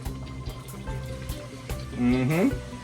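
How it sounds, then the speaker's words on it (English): About a liter of water poured into a pot of Jamaican curry conch, a short splashing fill with a rising gurgle near the end, close up, among kitchen clatter. "I'm also gonna add about 1 liter of water."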